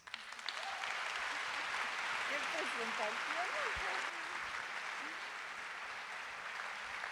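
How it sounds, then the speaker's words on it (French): Audience applause for Gabriela Ramos at a UNESCO event on gender equality, dense steady clapping from a crowd lasting several seconds, with faint voices mixed in. "je vous demande d'applaudir très fort Madame Gabriela Ramos"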